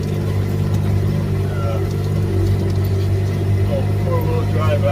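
A four-wheel drive vehicle climbing a hill on a Montana ranch property, its engine holding a steady droning hum with a low rumble throughout, heard from inside, while people talk over it.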